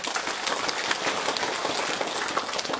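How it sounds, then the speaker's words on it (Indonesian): Audience applause at the inauguration ceremony of a regional public hospital, a steady broadband patter of many hands clapping at moderate volume, continuous and unbroken, with no voices over it. "Mari kita tepuk tangan dulu."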